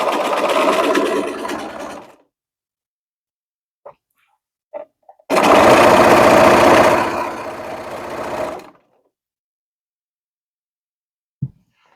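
A sewing machine stitches a seam along the half-inch allowance of a fabric pillowcase in two long runs of fast whirring needle strokes, separated by a quiet pause with a few small clicks, loud and close.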